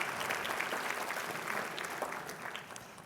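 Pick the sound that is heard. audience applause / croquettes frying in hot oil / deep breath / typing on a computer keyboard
audience applause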